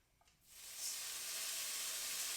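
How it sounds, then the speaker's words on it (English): Shrimp dropped into hot vegetable oil in a pan for a stir fry burst into a loud, steady sizzle after a brief quiet start, a broad hiss that holds to the end. "The sizzle."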